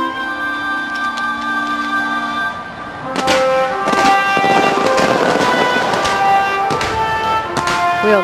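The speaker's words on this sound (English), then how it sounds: "We all love a good firework display, don't we?" Fireworks bursting over a stadium during the 30th SEA Games closing ceremony in the Philippines, 2019: after a quieter start, a dense run of loud booms and crackles fills the last five seconds, with a crowd and commentary beneath.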